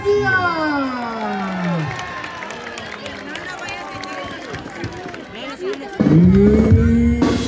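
At the Torito de Petate 2024 festival in Las Jacarandas, a crowd greets a band with shouts, whoops and cheering, with some light clapping beneath the voices, before a louder burst of sound near the end.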